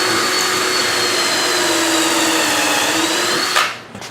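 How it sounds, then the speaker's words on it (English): A drill bores pocket holes into a block of wood, a loud steady whine holding for several seconds before winding down at the end. "now we both have our pocket holes drilled in the block of wood on the bottom"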